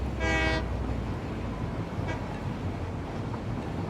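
A train horn in the video game Satisfactory gives one loud harmonic honk of about half a second at the start, then fades into a low steady rumble with faint hints of a second toot, and nobody talks.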